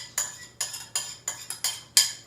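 A metal inner pot of yogurt mixture is handled back into an Instant Pot, giving six or seven crisp metallic clinks and knocks in a quick, uneven rhythm, close and clear.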